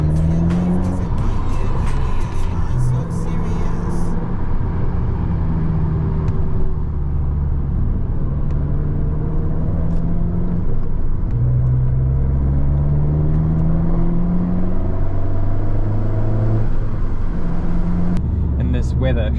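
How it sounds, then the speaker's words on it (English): Turbocharged Abarth 595 engine pulling hard from inside the cabin, a steady droning roar with rising pitch sweeps through the gears on a wet road, under a person talking. "Turbo on this thing, god damn!"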